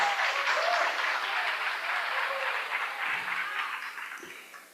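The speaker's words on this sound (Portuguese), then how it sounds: "palmas para ela também, por favor." An audience at an indoor seminar on feminist foreign policy breaks into steady applause. Many hands clap together in a dense wash that holds for several seconds, then slowly thins and fades.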